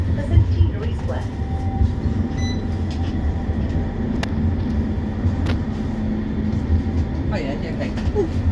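West Midlands Metro tram running near Wolverhampton Station, a steady low rumble and hum of wheels and motors inside the car, with occasional clanks and squeals over a constant background.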